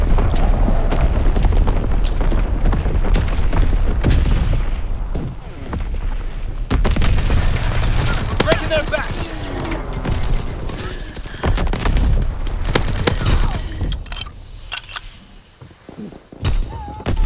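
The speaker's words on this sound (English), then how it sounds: "Sending mortar rounds." Mortar rounds exploding in Call of Duty WWII during a Team Deathmatch on Sainte Marie Du Mont, heavy repeated booms and thuds mixed with bursts of gunfire, loud and continuous throughout.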